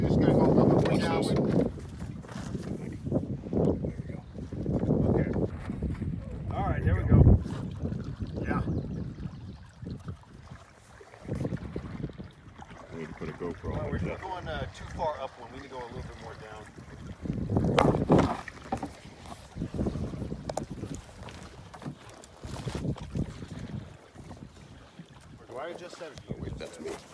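Gusting wind buffets the microphone while a canoe sails downriver under a makeshift tarp sail, with rising and falling rushes of air and water noise, and people talk intermittently throughout.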